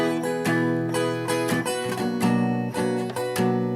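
Acoustic guitar after an action adjustment, strummed steadily with rhythmic chord attacks ringing throughout, close and fairly loud with no voices.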